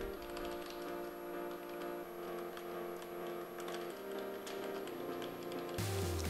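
Keys on a computer keyboard are typed in a quick, irregular run of light clicks, close and fairly quiet over a faint background hum, with no talking.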